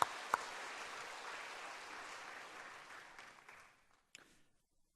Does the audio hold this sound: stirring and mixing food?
no